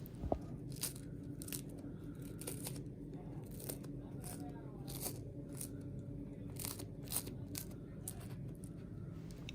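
A crisp pizza crust made with Molino Chiavazza flour crunches and crackles as it is cut, giving a series of sharp, close, irregular snaps over quiet background noise.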